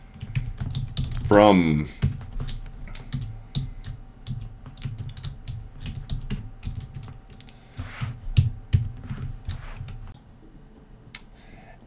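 A SQL query typed on a computer keyboard, with steady rapid key clicks close by, continuing at a light, even level through most of the stretch, with a brief spoken word early on.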